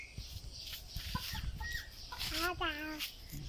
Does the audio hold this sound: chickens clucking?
yes